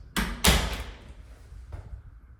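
A glass shower door in a hotel bathroom swings open with two close, sharp knocks and rattles, followed by a fainter bump.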